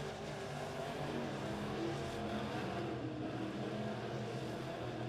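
Midwest Modified A-Class race cars, including the 228 machine, thunder around the Springfield Raceway speedway in a heat race, producing a steady, dense engine roar that stays loud and unbroken throughout.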